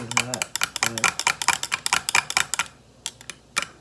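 A powder mixture being stirred in a container, giving a quick run of sharp scraping, tapping clicks close by that slows into a few scattered taps, with no talk.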